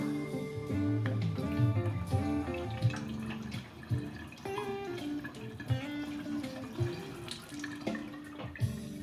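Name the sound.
water draining from Flavia Creation C200 coffee machine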